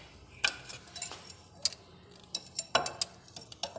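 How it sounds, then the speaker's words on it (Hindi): A spoon stirs cumin and salt into yogurt for boondi raita, giving a few faint, scattered clinks and taps against the bowl, quiet and close with gaps between strokes. "हम इसको अच्छी तरह से मिक्स करेंगे"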